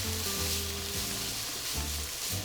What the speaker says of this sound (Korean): 예열이 됐으면 당근을 넣고 한 1분 정도만 빠르게 볶아주세요